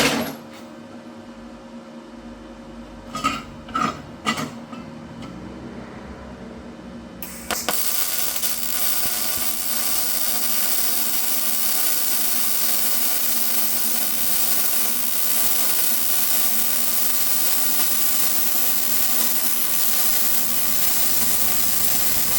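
MIG welding on carbon steel with a YesWelder DP200 multi-process welder: a few short crackles at first, then a steady, loud, unbroken buzzing hiss that holds for about fifteen seconds.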